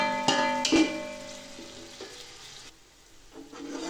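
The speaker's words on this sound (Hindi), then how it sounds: "2 से 3 मिनट तक प्याज को घी में फ्राई करेंगे।" Sliced onions frying in hot ghee in a pan for vegetable pulao, giving a steady sizzle with a few louder clanks as they are stirred, close and alone without talk.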